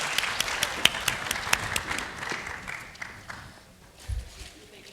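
Audience applause greets Olympic athletes walking up to the stage at a women's health and fitness expo, a dense crowd clapping with sharp individual claps standing out, thinning and fading after a few seconds.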